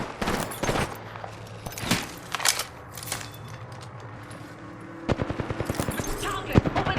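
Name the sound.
gunfire in the video game Apex Legends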